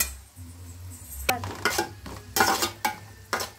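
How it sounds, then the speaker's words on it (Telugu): Chopped onions hit hot oil in a pan for egg fried rice, giving a faint steady sizzle, then a burst of louder scraping and clattering stir strokes against the pan, with no voices. "ఇప్పుడు ఆనియన్ వేసుకున్నాం కదా, బాగా అవి రోస్ట్ అయ్యేంత వరకు మనమైతే ఆయిల్లో వేయించుకుందామండి బాగా"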